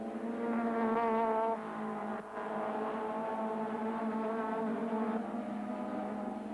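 Touring cars roar past at about 220 km/h on the fastest section of the Kyalami circuit, South Africa, engines sustained and loud with shifting pitch as they pass.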